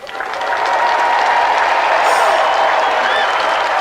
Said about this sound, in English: Let's have another round of applause for Auntie Marisha and our special guest